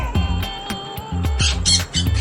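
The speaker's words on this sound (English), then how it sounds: "Parrot." A cartoon parrot squawks in a rapid string of harsh, raspy calls, loud and close with short gaps between bursts.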